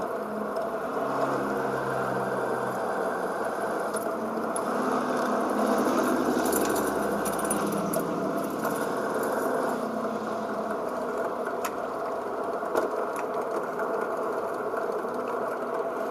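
A motorized drill whines steadily and continuously at close range while repairing a Samsung washing machine's spin motor, a constant high buzzing hum with occasional small clicks, no voices.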